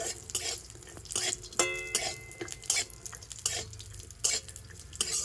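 Cashews and raisins fry in ghee in a pan, with a soft sizzle under repeated scraping and stirring clatter from a spoon against the metal, heard close and fairly quiet.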